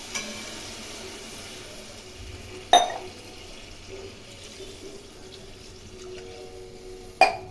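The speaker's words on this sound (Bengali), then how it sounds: "এই সময় জল দিয়ে দেবো" Water poured into a pan of hilsa fish curry with mustard paste, a steady running splash under faint background noise, broken by two sharp clinks of utensil against the pan.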